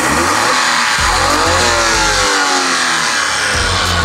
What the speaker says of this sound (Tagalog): ito yung makina natin is RO6E engine VVT. 12 valve, full aluminum engine.